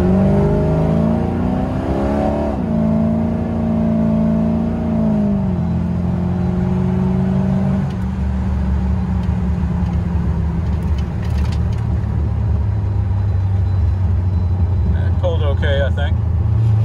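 An LT1-engined C3 Corvette with an automatic transmission pulls hard in low gear on the road, its engine note climbing steadily and loudly, then settling into a steady drone with tire and wind roar.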